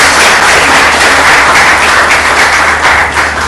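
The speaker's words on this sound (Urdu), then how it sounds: "تشریف آوری کا تالیاں سمی صاحب کے لیے" A studio audience on a Pakistani morning TV show claps steadily to welcome a guest, a dense and loud wash of applause filling the whole stretch without speech.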